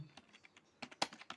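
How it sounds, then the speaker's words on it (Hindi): Keys clatter on a keyboard during a typing practice demo, a quiet run of light taps with a few sharper, louder strikes near the end, with no voice. "मैं थोड़ा सा दिखा देता हूँ कैसे आपको टाइप करना है"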